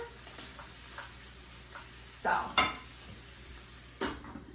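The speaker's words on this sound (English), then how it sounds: "when you're sauteing your veggies, it kind of helps it caramelize a little bit faster." Vegetables for stuffed peppers sizzle quietly and steadily in a frying pan, broken by a few louder scrapes of a utensil stirring them.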